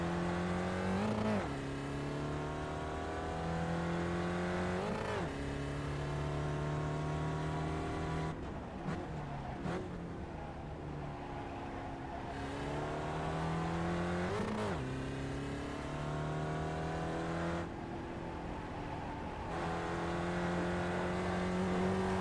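A Spec Racer Ford race car laps Tsukuba in the iRacing sim, its engine droning loud and steady, rising through revs and dropping sharply on repeated upshifts and braking, with no voices.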